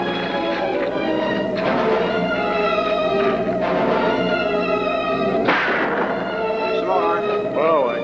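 Gunfire from the 1950 science-fiction film Rocketship X-M, heard as a few sharp, booming bursts spaced seconds apart over a steady bed of orchestral music and voices.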